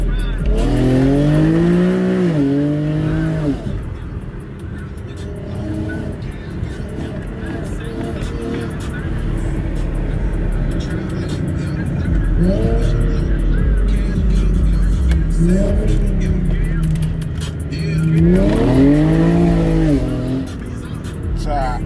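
A car alleged to be a fake Dodge Hellcat revs hard in several bursts, its engine note climbing and falling sharply with loud, rising sweeps and idle rumble between them.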